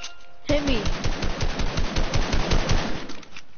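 Sustained rapid automatic gunfire in a video game, a loud, close, evenly pulsing stream of shots lasting about three seconds after a brief voice at the start.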